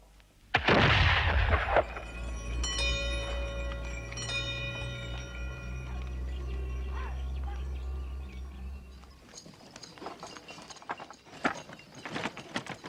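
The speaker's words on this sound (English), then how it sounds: "There's a gun fired every day at noon." A noon gun, fired once a day, goes off in a single sharp, loud blast, and a long low rumble follows and fades over several seconds, with faint ringing and clatter afterward.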